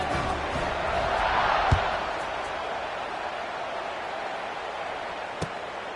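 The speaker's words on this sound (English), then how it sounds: "this crowd now ready to get behind them" A football stadium crowd in Memphis at kickoff: a broad, steady roar of many voices, swelling slightly then holding, with a couple of faint thumps.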